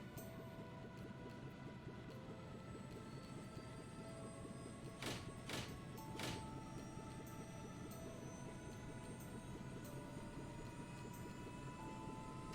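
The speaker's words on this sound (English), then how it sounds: "Royal Guardsman warship Arcee, prepared for takeoff." Royal Guard warship from the game Trails in the Sky lifting off, a steady engine roar with a few brief whooshing bursts partway through, continuous and fairly even in level with no talk.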